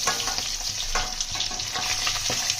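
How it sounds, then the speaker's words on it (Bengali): Rohu fish pieces frying in hot oil in a pan, a continuous close sizzle with crackling spits and occasional stirring scrapes, no talk. "তেল গরম হয়ে গেছে মাছগুলো ভেজে নেবো মাছগুলো ভালোভাবে ভেজে নেবো কড়া করে"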